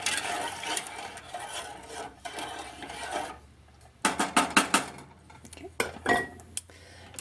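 A spoon stirring apple blossom jelly mixture with lemon juice in a pot, scraping and clinking against the metal in bursts, first continuous then in sharp separate knocks, close up with no talk.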